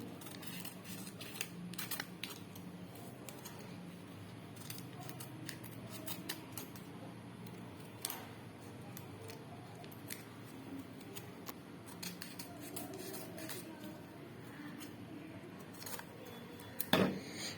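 Scissors snip through a nail sticker sheet with a series of faint, irregular clicks and short cuts, close but quiet, plus a louder snip near the end.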